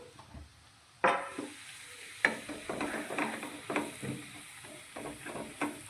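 Prepared flour goes into hot ghee and is stirred, a sharp sizzle at the drop followed by repeated scraping stirs and soft frying crackle, close and alone.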